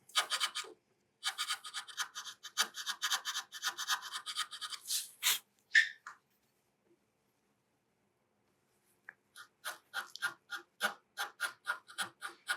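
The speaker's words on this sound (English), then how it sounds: "we'll run the rasp up and down" A rasp files a breadboard end slot in wood clamped to a workbench, in quick rhythmic rasping strokes, a pause of a few seconds, then more short strokes, close and alone.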